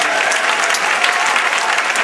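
A church congregation claps during a loud worship service, a dense, steady wash of many hands filling the space without pause for about two seconds.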